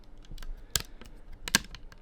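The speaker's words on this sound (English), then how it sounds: "It makes a lot of noise whenever you're trying to adjust it." Joby GorillaPod 3K tripod being adjusted, giving a few sharp, close plastic clicks and rattles, two louder snaps standing out among softer ticks.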